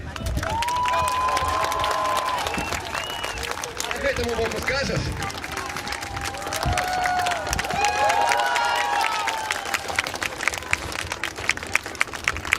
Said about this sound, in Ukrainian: скажи дякую за аплодисменты